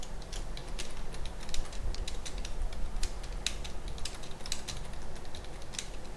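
Typing on a computer keyboard during a web development training class, with rapid irregular key clicks running steadily throughout, close and clear over a faint background hum, with no talking.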